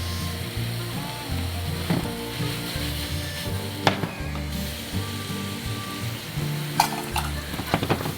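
Shrimp sizzling in a pan after sherry is poured in, with a steady loud frying hiss, occasional spoon scrapes and clacks against the pan, and no talk.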